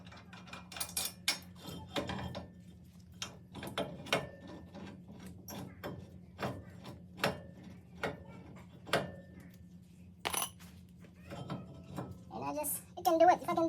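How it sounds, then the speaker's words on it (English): Ratcheting clicks and metallic clanks come from removing a brake caliper bracket on a Nissan Titan, in irregular short bursts against a low hum, with a voice talking faintly now and then. "Now let's remove this bracket so we can change the rotor."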